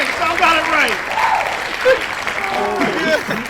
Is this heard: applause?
yes